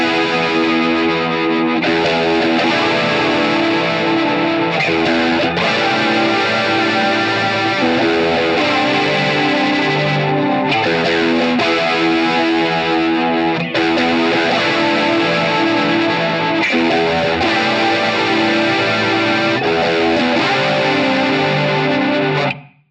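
A chord progression on an electric guitar with distortion and chorus effects, several sustained chords struck in turn at steady intervals, loud and close with no talking.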